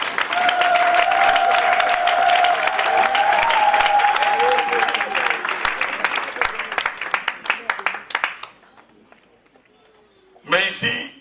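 A crowd of guests at a pastor's 30th wedding anniversary vow renewal claps and cheers steadily and loudly for his wife for about eight seconds, then the applause dies away, followed by a brief burst of talking.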